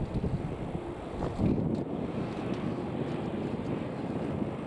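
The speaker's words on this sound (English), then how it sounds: "So this one's the 787-10 Dreamliner." A Boeing 787-10 Dreamliner at Manchester Airport gives a steady, distant jet rumble mixed with gusty wind buffeting the microphone, with no voices.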